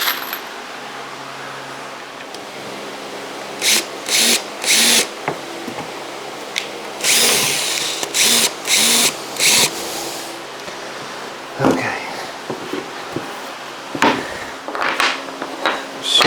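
A power drill drives 1 1/4 inch number 8 wood screws to fasten drawer handles, several short whirring bursts close by with small clinks and handling noises between them.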